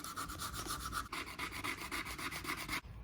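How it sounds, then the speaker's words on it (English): A small electric sander smooths a Mazda Miata car part with a close, steady buzzing rasp in quick pulsing strokes, shifting pitch once partway through before stopping abruptly. "I'm gonna use my little sander."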